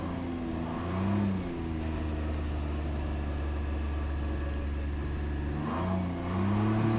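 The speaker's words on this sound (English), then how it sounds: "Still get a good amount of pull in Eco mode, but it does dial it back just a little bit. It takes the edge off when you twist the throttle." A Can-Am Ryker 900 three-wheeler in Eco mode pulls away with a steady mid-pitched engine drone, rising in revs with a gear change around the middle and again near the end, close and continuous with no talking.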